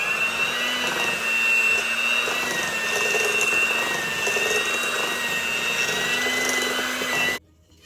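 Electric mixer creaming butter with light brown and white sugar on medium speed for cookie dough, a steady loud whirring motor hum that runs continuously and cuts off abruptly near the end.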